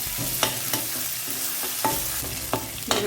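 Ginger paste stirred and sautéed in a pan after frying potatoes, with a steady sizzle and several sharp scrapes of a spatula against the pan.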